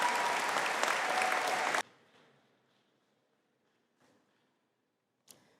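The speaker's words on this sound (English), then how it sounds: "Applause to all the students of the Higher Certificate in Business." An audience at a business faculty conferring ceremony claps for graduating Higher Certificate in Business students, a loud burst of applause that stops abruptly and leaves near silence broken by a couple of faint knocks.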